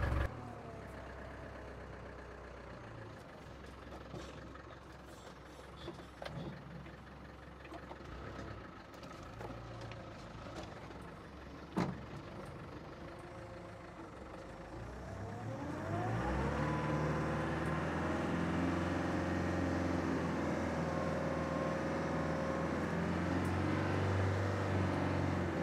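A 1983 Land Rover 110 on a drive, heard from inside as a low engine rumble and road noise that grows louder and steadier partway through, with no talking.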